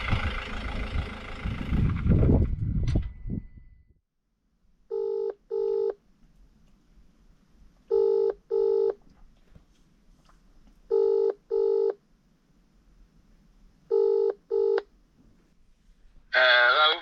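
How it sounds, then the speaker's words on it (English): A short burst of engine noise, then a phone's ringback tone repeating in evenly spaced double pulses, quiet between rings, before a voice answers at the end. "make a quick phone call"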